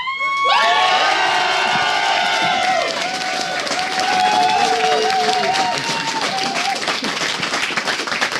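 A large esports crowd at IEM Cologne cheers and whoops loudly during a StarCraft 2 match, with high shouts and applause blending into a sustained roar that carries on throughout.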